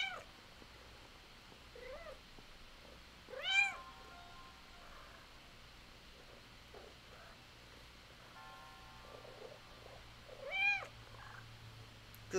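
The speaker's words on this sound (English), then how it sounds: "Good kitty." A cat meows indoors several times, soft, drawn-out calls spaced apart with a louder pair of meows, over quiet background hum.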